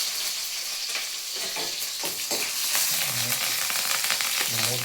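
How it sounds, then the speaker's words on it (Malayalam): Garlic, ginger and green chillies sizzle steadily in a hot pan, a continuous bright hiss with occasional stirring scrapes, close and alone with no talk. "അപ്പോൾ നമുക്ക് രണ്ട് വെളുത്തുള്ളി ഇഞ്ചി പച്ചമുളക് ഇട്ട് കൊടുക്കാം"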